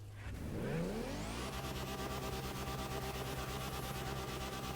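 Engine of a rally car in a racing video game, on a dirt surface with wheelspin, held bouncing against the rev limiter. A loud, sustained, rapidly stuttering buzz climbs in pitch over the first second and then stays steady to the end, with no talking.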